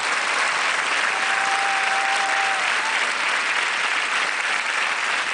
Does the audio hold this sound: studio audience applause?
yes